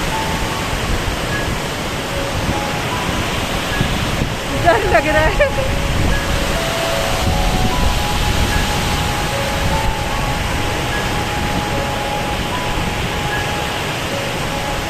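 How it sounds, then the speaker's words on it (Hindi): Rushing water released from a hydroelectric dam in Barot Valley, Himachal Pradesh, roars in a dense, continuous wash, loud and close, with a brief voice speaking under it partway through. "पीछे ये डैम अपना पानी छोड़ता है।"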